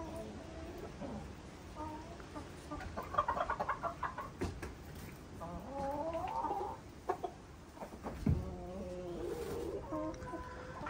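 Hens and a year-old rooster cluck and chatter close by in short, irregular bursts, with occasional louder squawks and some speech mixed in.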